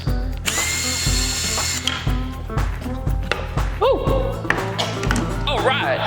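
Cordless power drill whining in short bursts while removing screws from a Nissan 370Z headlight ballast, loud and close, with someone talking over it.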